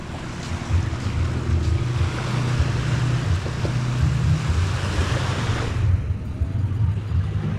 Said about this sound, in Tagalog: Hindi po malalaki yung alon.